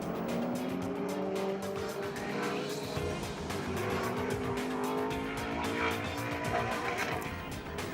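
A vintage Alfa racing car and a big Chevelle race on a circuit, their engines roaring steadily and loudly throughout with shifting pitch and occasional tire squeal, heard alone without commentary.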